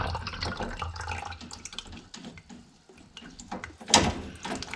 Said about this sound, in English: there's hardly any water coming out from the tap area